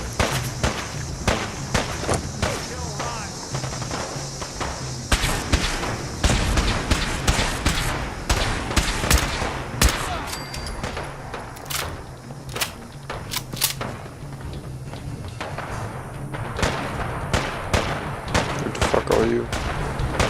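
Rapid bursts of gunfire crackle throughout a Fallout 4 firefight, sharp shots in irregular volleys, some close and loud, others more distant, while someone talks over the shooting.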